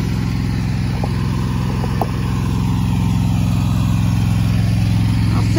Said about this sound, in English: You can see my last little bit of work with this lawnmower.